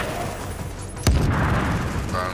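A frag grenade in The Division video game goes off as one sudden heavy boom midway, followed by a rumbling decay over steady game ambience.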